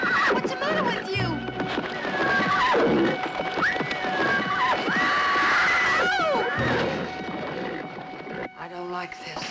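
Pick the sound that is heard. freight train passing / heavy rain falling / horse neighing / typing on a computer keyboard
horse neighing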